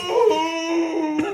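A single drawn-out, high, wavering howl, close and clear, holds steady for about a second with a brief yelp near the end, like a dog or wolf.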